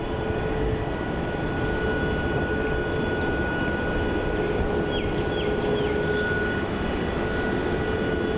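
An airliner rolls for takeoff on the runway at Melbourne Airport, a loud, steady engine roar held evenly from a distance with a faint tonal whine above it.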